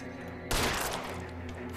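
Gunfire in L.A. Noire erupts abruptly after a quiet stretch, a loud burst of overlapping shots with a rattling, sustained tail under a low game hum, no talking.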